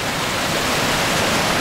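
A small waterfall on a stream along the Maliseet Trail near Woodstock, New Brunswick, pours in a loud, steady, unbroken rush of water with no other sounds.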